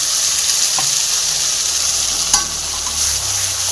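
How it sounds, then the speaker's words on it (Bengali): A ground ginger and cumin paste hits hot oil already used for frying fish, with white cumin seeds in it, and sizzles steadily and close up with faint stirring clinks throughout. "এখানে আমরা দিয়ে দিলাম বেটে রাখা মশলাটাকে"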